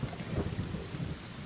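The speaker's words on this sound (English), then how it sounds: "The sound of thunder can be heard just all across the plains." Steady rumbling of thunder during a storm over open plains, a continuous low roll mixed with the hiss of rain, fairly loud and unbroken, with no voices.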